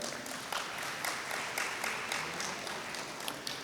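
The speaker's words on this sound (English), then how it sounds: "Please, a big round of applause for them." Audience applause at a conference inauguration session, a steady wash of clapping held at moderate level throughout with no voices over it.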